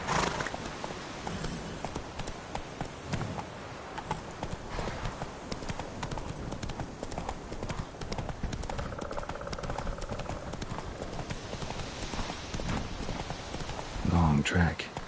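The horse Roach gallops in The Witcher 3, its hooves thudding in a steady, fast clip-clop rhythm throughout. A voice speaks over the hoofbeats.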